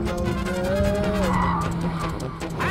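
A car brakes hard with a sustained tire squeal that rises and falls, engine noise rumbling underneath, fairly close.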